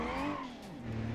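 Car engine in BeamNG.drive pulling hard through a short burst of acceleration, the pitch climbing and then dipping in a steady, close drone with no voices.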